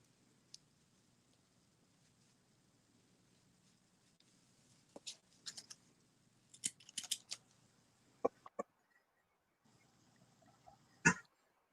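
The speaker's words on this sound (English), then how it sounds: "So I like to cut the yellow part first, and I trim that shorter so it looks like the nice center of the flower." Scissors snip at yellow yarn on a pompom craft cactus flower, in scattered quiet clusters of short crisp cuts with near silence between them and one sharper snip at the end.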